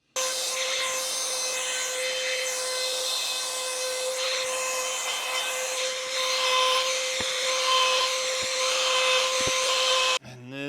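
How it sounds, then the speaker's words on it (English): A power sander runs steadily on wood being prepared for floating shelves, giving a loud continuous whine with a few faint knocks before the sander cuts off near the end. "And then there was sanding."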